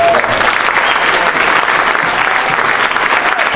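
Sustained, dense applause from a large audience at a panel event in the Great Hall of Cooper Union, steady and loud throughout with no pauses.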